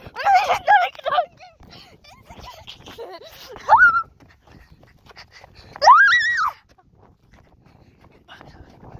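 A dog's high whining yelps come in two or three short bursts between stretches of nearby talking outdoors on a windy day.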